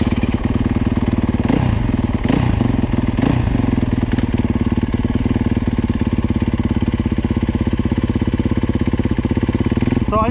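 A Yamaha YZ250F motorcycle engine runs close by, a steady rough idle with a few quick throttle blips early on, then settling into an even, continuous rumble with no talk.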